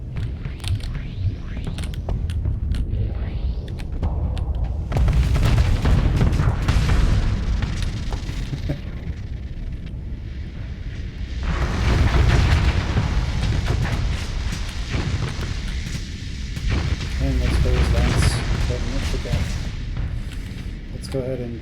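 Torpedoes launch and detonate in the space game Starsector, with deep booms and rumbling explosions swelling in several heavy waves over a continuous battle din, while someone talks over the action.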